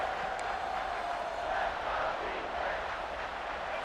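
Steady stadium crowd roar from College Football 26 at a home game, a dense continuous wash of noise with a faint held tone running through it, no distinct cheers standing out, moderately loud throughout.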